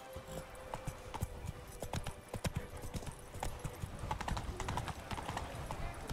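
Roach the horse in The Witcher 3 video game trots with rapid, steady clip-clop hoofbeats at moderate distance, with a soft ambient game backdrop.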